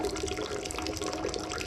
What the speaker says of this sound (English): So I'm just grabbing water from the kettle.